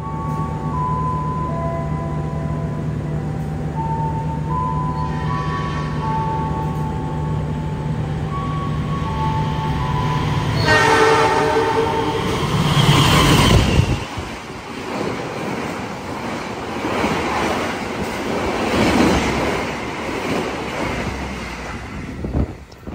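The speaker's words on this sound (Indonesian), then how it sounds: "Nanti kereta Taksaka bakal lewat di sini ya" Taksaka passenger train rushing past at speed on track 2 of an Indonesian line, a loud broad roar swelling midway and sustained with whooshing turbulence, preceded by steady tonal hum and a brief horn-like tone.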